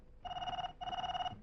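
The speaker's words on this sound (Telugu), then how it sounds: "ట్రింగ్ ట్రింగ్" A telephone bell rings in two clear bursts with a short gap between them, loud and close, with no talk over it.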